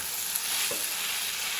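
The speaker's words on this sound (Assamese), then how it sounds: "আজি খৰধৰকৈ এনেকৈ কুন্দুলি আলু ভাজিছোঁ" Potatoes frying in a pan, a brief steady close hiss of sizzling oil with no talking.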